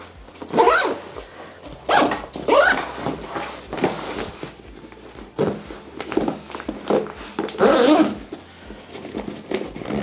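Zipper on a GORUCK backpack being opened, a rough, not-so-smooth pull heard as several short raspy bursts spread across the clip, fairly close with no talking.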